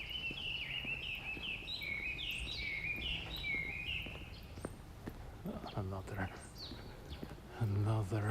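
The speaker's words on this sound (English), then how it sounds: "The birds are singing." Birds chirp and warble in high, quick phrases on a Tokyo morning street, fairly loud at first and then thinning out. Hard footsteps or clopping taps and a person speaking can be heard under them.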